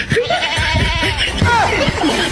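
A goat climbing on a plough bleats loudly and close by, several wavering cries in quick succession.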